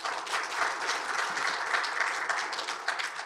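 Audience applause at a Korean construction forum on building collapse accidents and quality decline, a steady, even wash of many hands clapping in a hall, fairly close and sustained throughout.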